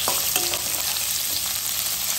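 Onions fry in a hot pan with tempered dried red chillies for mango rice, a steady broadband sizzle with a few light stirring scrapes, close and continuous with no talk.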